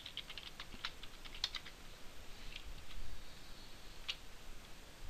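Computer keyboard typing of ActionScript code, a quick run of light, close key clicks over a faint hiss, with no talk.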